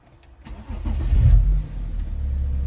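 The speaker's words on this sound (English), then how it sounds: "So I'm going to start the engine" A BMW F02 730d diesel with charge air temperature and air mass faults cranks briefly and fires, its engine rising to a loud low rumble before settling into a steady idle, with no talking.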